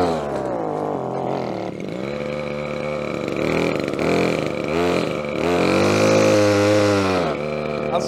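A petrol strimmer engine runs on choke close by, its steady buzzing drone rising and falling in pitch as the throttle shifts, with no talk over it.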